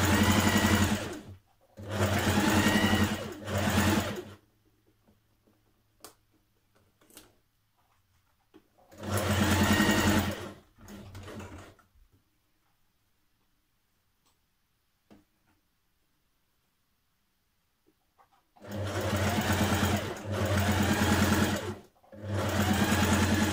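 A home sewing machine stitches a dart in a Simplicity 1356 dress. It runs in several loud, steady whirring bursts of a few seconds each, separated by quiet pauses with faint handling clicks.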